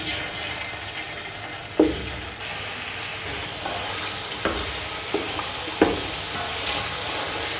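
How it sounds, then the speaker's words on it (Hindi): Chicken sizzling and frying in a pan for pulao, with a steady crackling hiss broken by a few sharp stirring scrapes and clatters, close and alone. "चिकन फ्राई हो चुका है,"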